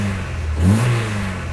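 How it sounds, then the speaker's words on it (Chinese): A 1982 Mercedes-Benz W123 230E four-cylinder petrol engine, freshly rebuilt fuel distributor, revs briefly under throttle, one short rising and falling blip over a steady idle, loud and close. "我们来试一下它这个加油状况"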